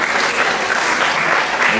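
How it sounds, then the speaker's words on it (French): Audience applause fills a Christmas show in a French-speaking venue, a dense, steady wash of many hands clapping at close range, loud and continuous throughout, with no voices heard over it. "Applaudis, applaudis, s'il vous plaît"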